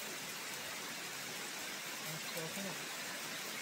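Heavy rain falling on a mountain trail on Mt. Mantalingahan, a steady dense hiss throughout with a faint voice murmuring briefly under it.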